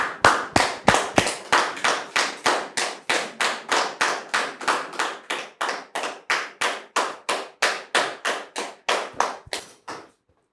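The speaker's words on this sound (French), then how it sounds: "Sous vos applaudissements" Rhythmic, evenly paced claps ring out for a guest arriving on a studio talk show set, crisp and close, holding a steady beat for about ten seconds before stopping abruptly.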